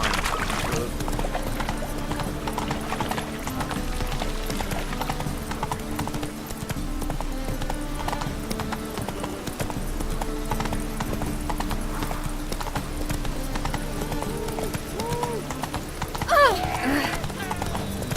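A horse gallops in The Witcher 3, its hooves drumming steadily and continuously close by over a bed of game sound, with a brief whinny-like cry near the end.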